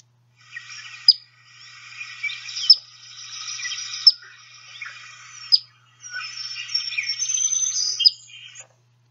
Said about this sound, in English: There's not a lot out there that produces a chip like this, particularly in the types of habitats where you hear the Phoebe.